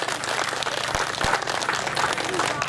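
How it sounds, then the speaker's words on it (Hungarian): Crowd applause at a village fair, busy clapping mixed with voices and background chatter, a couple of loud nearby claps standing out. "Szeretnék kérni egy tapsot."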